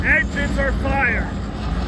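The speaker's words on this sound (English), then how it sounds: "Engines are fired." NASCAR race car engines roar together at the Coca-Cola 600 as the field starts up, a steady broad rumble mixed under a voice.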